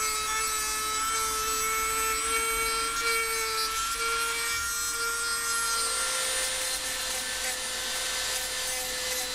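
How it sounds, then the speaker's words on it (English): A sanding drum grinds titanium parts of a 10mm high-capacity 1911 pistol, a continuous high whining rasp with a steady tonal hum underneath, close and unbroken throughout with no talk. "the titanium really makes quick work of these sanding drums"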